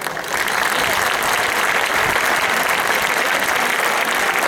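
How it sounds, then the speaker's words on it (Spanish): An audience at a Spanish anniversary gathering of Aragonese cultural centres claps in sustained, dense applause, steady and loud throughout the few seconds with no break. "sus aplausos son el precio más bonito que ellos pueden cobrar"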